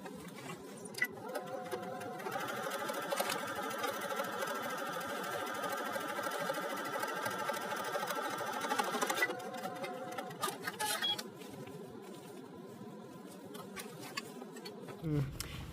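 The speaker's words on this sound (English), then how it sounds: "I'm going to stitch from dot to dot, and then I'm going to do the understitching for that V neckline first" A sewing machine stitches a V neckline on a garment, a steady close rapid whirring hum of running stitches that carries on for several seconds, then stops and starts again in shorter bursts.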